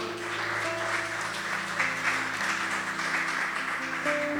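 Congregation applause during a church service, sustained clapping over a held tone of music or sound system hum, moderately loud and continuous throughout.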